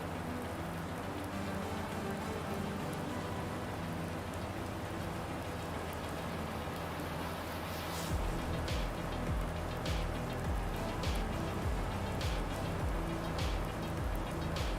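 Steady rain falls in a farming video game set in the Susquehanna River Valley, a soft continuous hiss, with patterings and heavier drops joining partway through; no talking.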